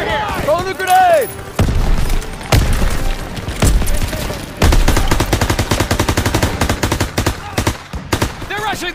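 Dense automatic and rifle gunfire rattles through a World War II battle in Call of Duty WWII on PlayStation 4, with rapid bursts, heavy booms and sustained volleys close up, while voices shout over the shooting.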